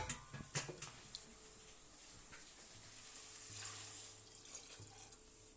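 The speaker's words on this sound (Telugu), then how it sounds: "ఈ చెంబు నిండా తీసుకుంటున్నాను అన్నమాట." Water poured from a pot into a brass vessel in a home kitchen, a close, quiet trickling and splashing that swells and fades, with a few clinks at the start.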